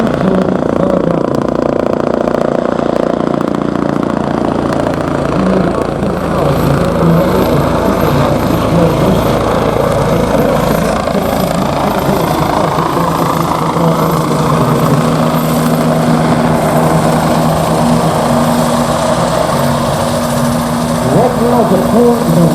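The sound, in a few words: Bell 429 Global Ranger helicopter engine at an airshow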